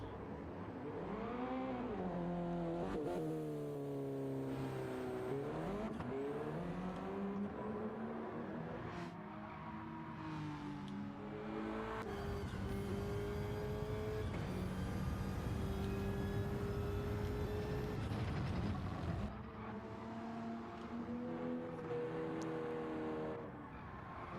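Race cars in Gran Turismo 7 at Barcelona, engines revving and wheels spinning up, with tonal engine whine rising and falling steadily and loudly through the whole stretch.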